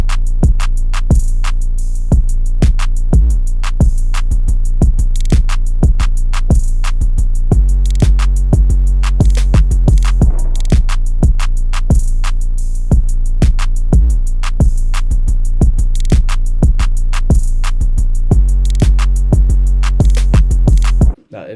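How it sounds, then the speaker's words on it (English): A hip-hop drum beat loops steadily, with punchy kicks, crisp hi-hats and booming low bass hits repeating at a moderate tempo, loud and alone. "Altogether, the drums sound like this."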